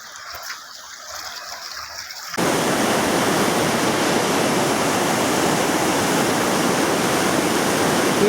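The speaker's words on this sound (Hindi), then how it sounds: "बह के पानी आ रहा है, दरियाए काबुल।" Water rushes down from the mountains along the Kabul River in the Kalash Valley, Pakistan, a loud, dense roar that starts abruptly after a quieter stretch and then holds steady and close.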